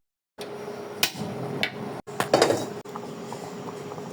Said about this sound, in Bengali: কড়াই দিয়ে দিচ্ছি